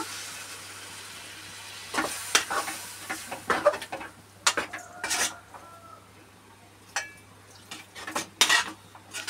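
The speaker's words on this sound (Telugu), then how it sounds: "తర్వాత వాటర్ పోస్తున్నారనమాట" Water poured into a pan of brinjal and chana dal curry, followed by a ladle scraping and clanking against the pan in irregular bursts, with a soft sizzle beneath and a faint rooster crowing far off.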